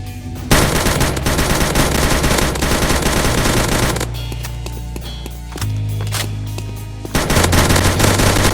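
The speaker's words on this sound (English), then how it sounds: "Moving along, we have the M4A1." Rapid M4A1 automatic gunfire from a 3D military gun addon in Minecraft, loud sustained bursts with a short pause midway, then firing resumes, no talking.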